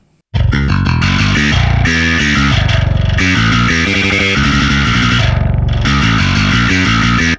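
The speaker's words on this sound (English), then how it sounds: "Now we're gonna put it on distortion." A Eurobass II software bass plugin through its distortion amp plays a loud, gritty riff of repeated notes, heavily distorted, buzzing and saturated from start to finish.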